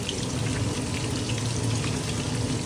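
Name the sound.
fish frying in a pan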